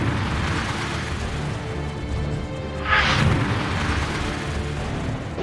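A missile warhead detonates in military training footage, a single muffled boom bursting out near the middle of a steady rumbling background, fairly loud with no voices.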